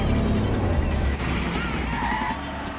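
Cars roar past in a film street race with four entrants, a loud, dense engine and road rush that swells and holds throughout with no pause.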